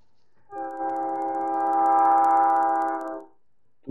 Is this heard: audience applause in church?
no